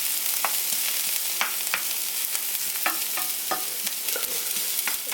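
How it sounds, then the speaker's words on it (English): Onion sautéing in a hot pan for tacos, a steady close sizzle with scattered clicks of stirring throughout, no voices. "As soon as that heats up a little bit, we'll add in our onion"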